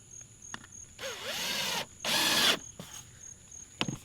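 Power driver sets screws into a wooden form for casting a concrete rain splash block, two sustained whirring bursts about a second each, with a few sharp clicks and knocks between them, close and fairly loud.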